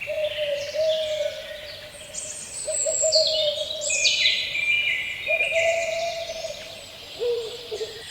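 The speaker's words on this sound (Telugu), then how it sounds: "ఆఖరికి గుడ్లగూబ మాట్లాడింది." A wise old owl in a children's moral story gives a series of clear, low hoots, each held for about a second, while brighter bird chirps and calls flutter above them throughout.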